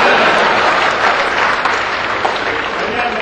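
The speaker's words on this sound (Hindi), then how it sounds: "और अब आपकी तालियां उठे" Loud, dense audience applause at a comedy and poetry gathering in Bihar rolls on steadily for a few seconds, close and full, with a murmur of crowd under the clapping.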